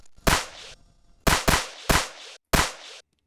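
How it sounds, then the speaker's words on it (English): An AI-generated drum sample with a gunshot-like hit plays four times, sharp loud bangs each trailing into a short crunchy decay, the last three in quicker succession, with silence between. "Nice little gunshot type effect."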